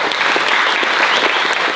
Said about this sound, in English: I think you should give yourselves a round of applause.